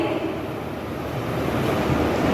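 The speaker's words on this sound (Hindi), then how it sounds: "अब हम इस बॉयलर मशीन में सबसे पहले हम 3 से 4 चौथाई भाग पानी डाल देंगे।" Water is poured into a boiler sterilizer machine, producing a loud, continuous rushing splash that stays steady for the whole short stretch.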